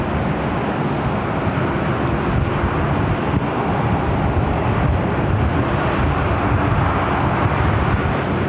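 A KLM airliner taxis at LAX with a loud, steady broadband engine roar and rumble that holds constant throughout, with no talk.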